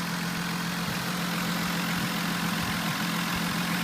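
A 2000 Ford Taurus with a Duratec 24-valve DOHC V6 runs at a steady idle during an engine test, giving a constant close hum with a faint rhythmic pulse.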